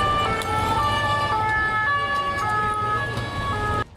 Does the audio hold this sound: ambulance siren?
yes